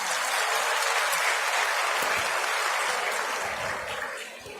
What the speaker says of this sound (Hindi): जोरदार तालियां भारद्वाज जी।